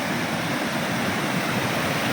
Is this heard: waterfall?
yes